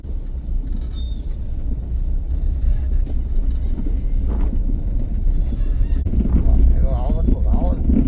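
Car engine hum and low road rumble while driving through Nashik city traffic, steady and continuous, with people talking over it throughout.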